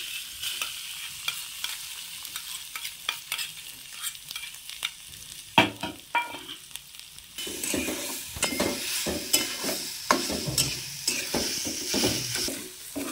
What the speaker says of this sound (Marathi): गॅस बारीक करून हे खोबरं चांगलं भाजून घ्यायचं तुपात।